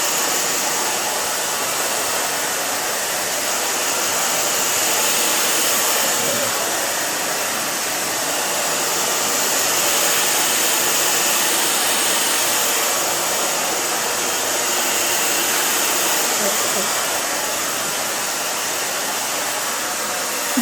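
A hair dryer blows steadily and loudly throughout while hair is dried down during a soft pixie cut styling, a continuous broadband whoosh with only slight swells in level and no talk.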